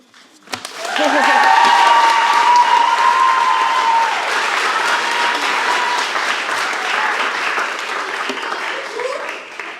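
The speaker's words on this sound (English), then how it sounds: "Just one last round of applause for our signees." Loud, sustained applause from a large crowd at a college signing day, swelling quickly and holding steady with a few cheers mixed in.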